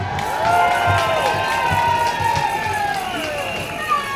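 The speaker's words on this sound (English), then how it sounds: "Big round of applause, Tanya Buxton." Outdoor crowd at an anti-ULEZ political rally in Trafalgar Square, London, clapping and cheering loudly, with whoops and shouts over sustained applause that stays strong throughout.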